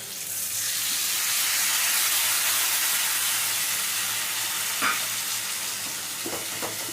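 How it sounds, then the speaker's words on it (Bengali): Stone-ground onion, ginger, garlic and tomato paste fries in a pan for an egg curry with potol and potato. A steady, dense sizzle runs throughout, with a few soft scraping stir clicks near the end. "এবার বাকি যে মশলাটা শিলনোড়ায় বেটেছিলাম সেটা দিয়ে দিচ্ছি পেঁয়াজ আদা রসুন আর টমেটো"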